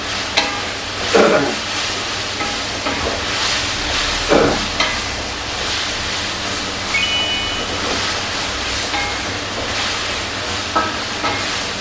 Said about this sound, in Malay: Jadi sekarang ni kita goreng sedikit.